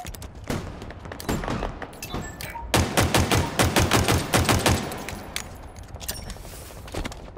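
Rapid bursts of gunfire in Halo Infinite online multiplayer, a dense fusillade of overlapping shots that peaks in a loud cluster midway, then thins to scattered reports, with a game soundtrack underneath.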